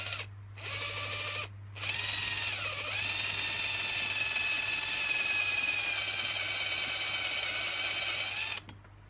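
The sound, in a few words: drill drilling out a pop rivet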